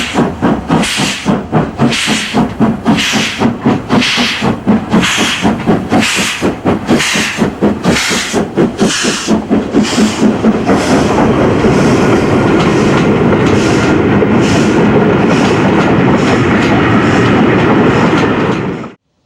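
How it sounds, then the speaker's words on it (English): Steam locomotive 46203 Princess Margaret Rose restarting a train uphill on the North Wales coast, loud rhythmic exhaust chuffs slowly quickening, then merging into a continuous roar of steam and hiss. "Number 46203 Princess Margaret Rose restarts a train uphill on the North Wales coastline."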